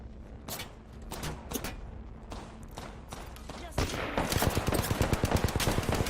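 Gunfire in the Apex Legends video game: bursts of rapid shots, sparse at first and then a dense sustained stream of fire in the second half, with people talking over it.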